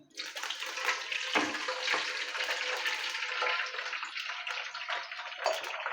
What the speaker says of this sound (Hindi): अब इसमें 1 गिलास भर के आपने डालना है पानी।